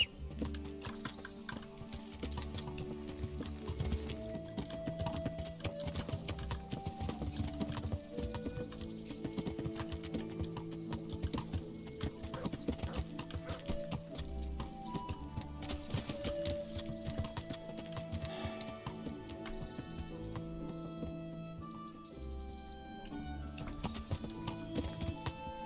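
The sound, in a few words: horse hooves and neighing, from video game Kingdom Come: Deliverance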